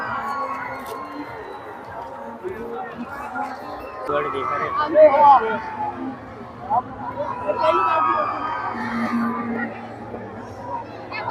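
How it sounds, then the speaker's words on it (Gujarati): A dense crowd at the Rajkot fair fills the air with steady, overlapping chatter that swells and fades, while a nearby voice talks over it. "બહુ ભીડ છે આજે"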